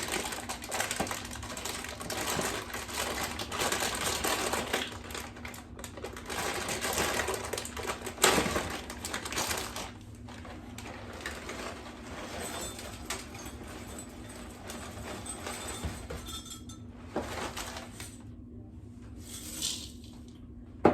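Corn and Wheat Chex cereal is poured into a bowl for a microwave Chex mix, a long, dense rattling patter of dry pieces with uneven surges and brief lulls, close and fairly loud, no voices.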